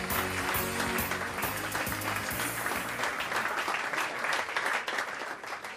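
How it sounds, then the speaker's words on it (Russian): A hall audience at a medical book award ceremony applauds for Angelika Podolyak, steady dense clapping over a rhythmic musical beat, tapering slightly toward the end, with no talk. "Аплодисменты, Анжелика Подоляк!"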